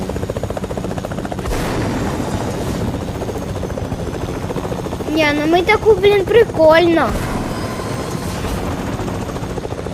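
Helicopter in the Fortnite battle royale game, a loud steady rotor thrum throughout with a brief burst of game effects in the middle, while a person talks over it.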